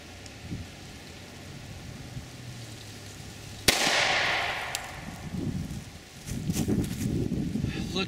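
A Grizzly 45 ACP pistol fires once from 10 feet into a test target of four layers of denim over pork ribs in plastic wrap and a bone-in shoulder. The single sharp report rings out over background noise, followed by rustling and handling sounds.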